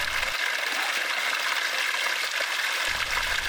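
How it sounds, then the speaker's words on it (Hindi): Mountain water gushes along the Tungnath trek in the Himalayas, a constant rushing, splashing flow heard close and steady throughout. "पूरे ट्रैक पर जगह जगह पानी की धाराएं फूट कर निकल रही थी"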